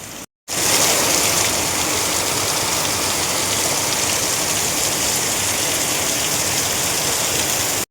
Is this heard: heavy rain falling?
yes